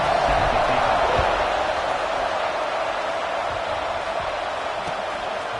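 A football stadium crowd at a Gators game roars as a steady, broad wash of cheering that holds loud across the whole stretch with no break.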